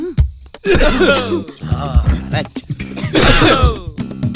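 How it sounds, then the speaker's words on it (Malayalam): Forced, deliberate coughs and throat-clearing from a person in a film scene, several harsh bursts in a row, close and loud, with other voices mixed in. "ഇടിക്കുന്ന ശബ്ദം പുറത്ത് കേൾക്കാതിരിക്കാനാണ് അവർ ചുമക്കുന്ന ശബ്ദം കൊടുക്കുന്നത്"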